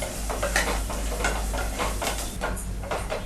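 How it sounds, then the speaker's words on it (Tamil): Onions sautéing in a pan for bitter gourd thokku sizzle steadily throughout, with a spatula scraping and stirring the pan at close range. "இப்போ நம்ம வெங்காயம் போட்டு சிம்மில் வச்சுட்டு நல்லா வதக்கணும்."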